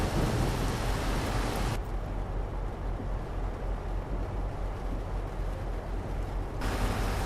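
Steady rain hisses throughout a Euro Truck Simulator 2 drive, heavy and continuous with a low rumbling bed, briefly muffled in the middle as though heard from inside the truck cab.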